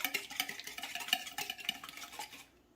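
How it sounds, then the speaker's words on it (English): Quick rhythmic whisking of ingredients in a bowl for a no-bake apple cheesecake, a close metal whisk clattering and scraping in fast bursts with no talk, stopping abruptly near the end. "I'm gonna grab my whisk and I'm gonna pre-whisk those here just a little."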